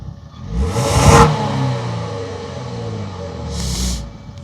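A Kia Stinger 3.3 GT in sport mode gives a short rising engine surge early on, then a steady mid-pitched run with a second swell near the end, heard from inside the car.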